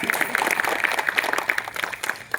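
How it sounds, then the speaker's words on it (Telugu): An audience claps its hands, a steady patter of many separate claps at moderate loudness that thins out toward the end, with no voices over it. "చప్పట్లు కొట్టండి."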